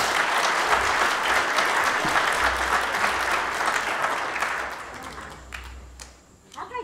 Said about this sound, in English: Give Stella a big round of applause.